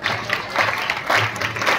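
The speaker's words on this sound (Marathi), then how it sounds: "टाळ्यांचा गजर सुरू ठेवा" Crowd applause at a school prize ceremony, a continuous wash of clapping from many hands throughout.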